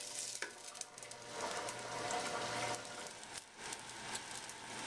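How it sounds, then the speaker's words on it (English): Onions and peppers for chili cook in a pan, giving a soft, fairly faint sizzle broken by a few quiet scrapes and stirs, with no voices. "I got the onions and I got the peppers and they're cooking."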